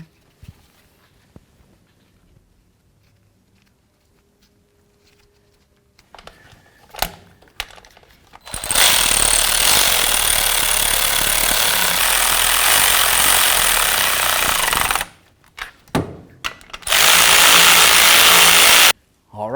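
A power ratchet snugs down the bolts on the 4WD actuator of a 2007-2017 Ford Expedition, with a loud, close whirring burst of about six seconds followed by a shorter two-second burst.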